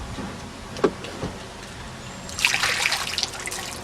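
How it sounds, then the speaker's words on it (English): Water sloshes and splashes as it is tipped out of a canoe on Nanticoke Creek, a couple of faint knocks first, then a brief burst of pouring and dribbling near the end. "Get some of the water out of my boat."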